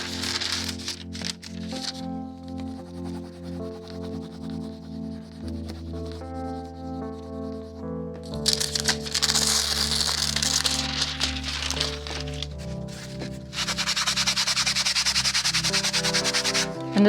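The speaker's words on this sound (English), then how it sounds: "And this is just a Rub It Scrub It from Ranger. Really good for taking back foil." A Ranger Rub It Scrub It tool rubbing back foil on a gel print: a continuous dry scrubbing and rasping that grows louder in the second half, playing under background music.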